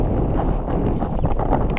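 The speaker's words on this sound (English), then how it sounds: "This wind is so crazy strong." Strong wind buffets the microphone outdoors beside a canal, a loud, continuous rumbling roar with gusty flutter and no clear voices.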